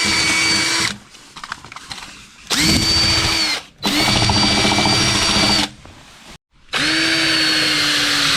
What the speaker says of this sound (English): I think I've got all the holes drilled all the way around